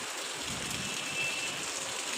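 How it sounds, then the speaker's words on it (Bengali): Rain falling steadily as a soft, even wash of noise, fairly quiet and continuous, with no voices. "বৃষ্টিটা হওয়াতে ভালোই হয়েছে"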